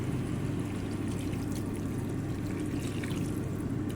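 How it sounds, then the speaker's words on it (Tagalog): Water, 250 ml, pours steadily into a cooking pan holding chicken with smoked paprika, chipotle powder and tomato paste, a continuous low splashing rush that is moderately loud, close and without speech. "i-add natin tong tubig na 250 ml"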